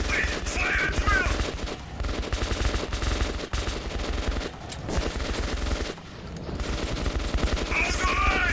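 Rapid, loud gunfire from the video game Metro 2033 Redux: dense overlapping bursts of automatic and single shots fire almost continuously, with brief lulls between volleys.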